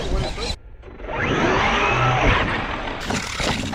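An ARRMA Notorious 6S V6 RC stunt truck's electric motor whines and revs up loudly after a brief drop to near silence, with a sustained whooshing rise and no talk.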